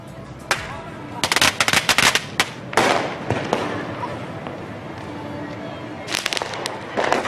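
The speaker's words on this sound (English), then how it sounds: "Simply letting off firecrackers marks progress for Yusuf" Firecrackers let off at a night celebration in Baghdad: sharp irregular bangs and crackling bursts in clustered volleys, some near and loud, with quieter gaps and faint background voices between.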